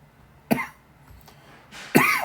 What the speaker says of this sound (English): See, I'm trying to get this little nagging cough.